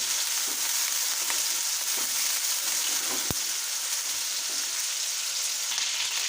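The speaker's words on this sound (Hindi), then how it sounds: "तकरीबन 2 से 3 मिनट हम इसको चिकन को अच्छी तरह फ्राई करेंगे" Chicken pieces fry in a hot pan for a spinach butter chicken dish, giving a steady, dense sizzle that runs unbroken throughout, with a single sharp pop near the middle and no talking.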